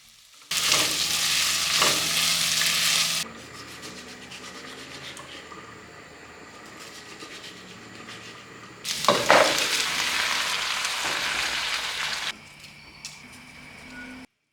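Two loud bursts of bubbling, sizzling noise from beef stew cooking in a pot, separated by a quieter stretch of faint simmering and stirring.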